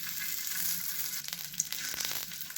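Alu vadi, taro leaf rolls, fry in oil over a low flame, giving a close, steady sizzle with a few brief bubbling crackles and no voices.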